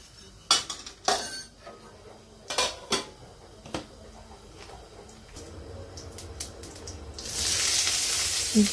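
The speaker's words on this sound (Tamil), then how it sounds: "இங்கே ஆயில் சூடு பண்ணிட்டு கடுகு, பெருஞ்சீரகம் மட்டும் போட்டு தாளிச்சிக்கிட்டேன்" Mustard and fennel seeds hit hot cooking oil with a bright, hissing sizzle that swells near the end, after a run of sharp clinks and clatters from pots and utensils.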